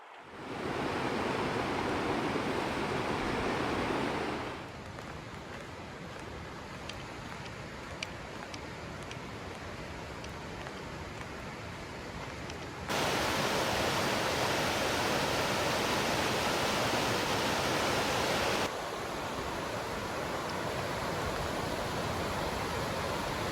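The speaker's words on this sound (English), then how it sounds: "Starting off with the crossing of the Bechler River. And it's not too deep right now." The Bechler River in Yellowstone's Bechler Canyon flows at a shallow crossing, a steady broadband rush of water that shifts louder and softer in several sections with no voices.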